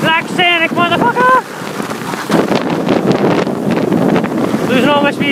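Wind roaring and buffeting on a ski slope at Poley Mountain, a loud steady rush broken by a few brief whoops and shouts from a skier.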